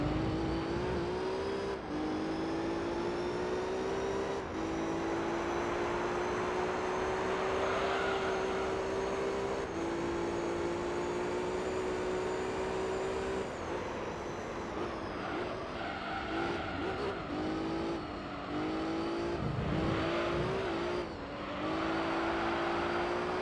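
A car engine lapping a circuit in the racing game Gran Turismo 3: A-Spec, a steady high whine that holds its pitch, then dips and revs back up through the turns, heard alone without talk.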